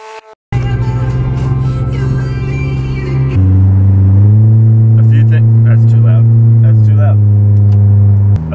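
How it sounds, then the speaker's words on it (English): A car with a broken exhaust drives along, giving a loud, steady, harsh engine drone throughout. The pitch shifts partway through as the engine changes load, with a few clicks and bumps over the top. "That sound is because the exhaust is broken."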